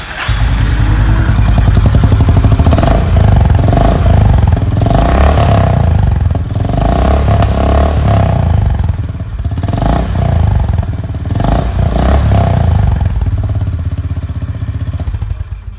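A 2025 Honda CB350RS single-cylinder motorcycle engine running steadily with a thumping, clattery idle and mild revving, loud and close throughout with no talking.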